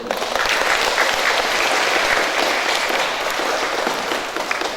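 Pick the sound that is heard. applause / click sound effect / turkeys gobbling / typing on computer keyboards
applause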